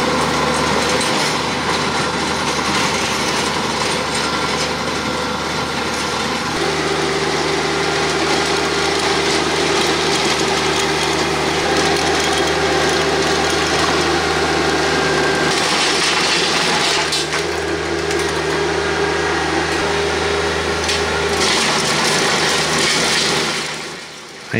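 Tractor pulling a land plane along the side of a drainage ditch, a steady close engine drone with shifting tone as the load changes, running continuously and dropping off at the very end.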